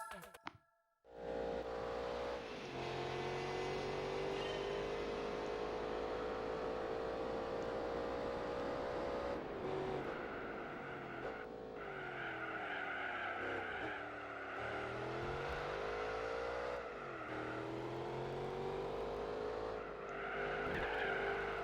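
Ford GT race car in Gran Turismo 4 roaring through continuous high revs, pitch climbing and dropping through gear changes and corners, with tire squeal layered in, loud and sustained after a brief quiet start.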